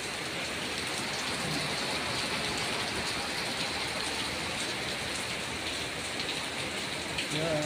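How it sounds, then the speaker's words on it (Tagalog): Heavy rain falls on Jeddah streets in a loud, unbroken wash of hiss and patter, close and constant, with a faint voice barely showing beneath it. "Yung ulan"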